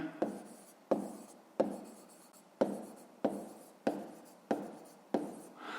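A pen writes on paper during a fifth-grade math exercise, giving a series of short scratchy strokes, each starting with a sharp tap and trailing off, at a steady pace, close and quiet.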